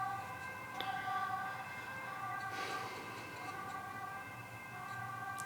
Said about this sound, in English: As you can hear, there's an ambulance in the very distance.